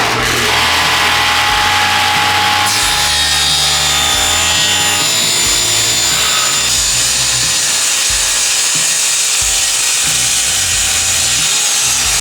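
A maple board, about 6 inches wide, is cut in half with a power saw, giving a loud continuous grinding whine that holds steady for the whole stretch and shifts slightly in tone as the blade moves through the wood.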